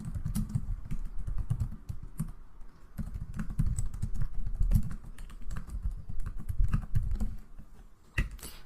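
Code being typed on a computer keyboard for a Python and ChatGPT assistant, a steady close run of rapid key clacks with brief pauses between bursts.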